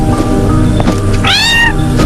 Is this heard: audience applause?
no